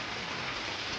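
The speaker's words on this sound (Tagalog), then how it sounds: "maulan lang po talagang panahon dito guys" Steady rainfall during the rainy season, an even hiss of drops falling on surfaces, moderately quiet and continuous with no voices.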